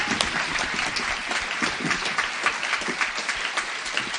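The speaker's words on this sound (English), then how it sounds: "let's give all of our contestants a huge round of applause." Audience applause for contestants at a science slam: dense, sustained clapping fills the whole stretch at an even level, with no voices breaking through.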